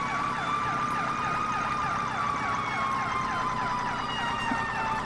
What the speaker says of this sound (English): God, I love this siren.